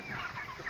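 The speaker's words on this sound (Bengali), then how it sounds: "পোলট্রি মুরগির মা এটা।" Hen clucking, an older poultry mother hen on a farm, with soft continuous clucks and murmurs close by over about a second, fairly faint with no voices.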